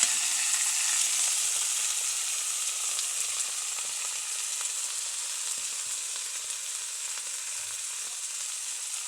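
Tomatoes frying in hot cooking oil in a pan for a dish of dried fish with tomatoes, giving a steady, fairly soft sizzle that continues evenly throughout without any talking.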